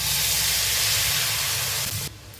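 Spice paste mixture poured into a hot pan for a hilsa fish curry with eggplant, producing a loud, steady hiss and sizzle that drops off sharply near the end.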